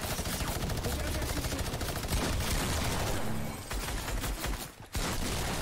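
Dense, rapid gunfire from a Fortnite Battle Royale match crackles loudly and almost continuously, with a brief dip near the end before the shooting resumes.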